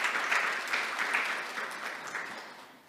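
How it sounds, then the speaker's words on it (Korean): Audience applause welcoming a presenter at an academic conference session, a steady, continuous wash of many hands clapping, moderately distant and sustained throughout with no speech over it. "환영의 박수 부탁드립니다."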